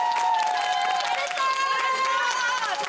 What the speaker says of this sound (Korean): 서로에게 격려한다, 네, 응원한다는 의미로 박수로 마무리를 해보겠습니다